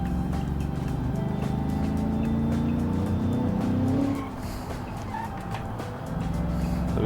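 A large, expensive four-wheel-drive car drops a gear and the engine revs up with a loud, rising drone over road noise. After a few seconds it eases off to a quieter cruising hum, then climbs again slightly.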